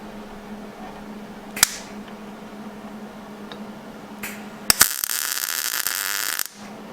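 A tack weld is made on a tube front for a 1994–2004 Mustang: a few sharp clicks are followed by a short, close burst of crackling welding arc lasting under two seconds, over a faint background hum.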